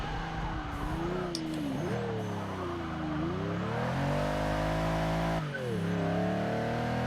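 Supercharged Range Rover driven in the racing game Forza 6, its engine droning and rising and falling in pitch as it accelerates and shifts, steady and loud throughout with brief tire squeal.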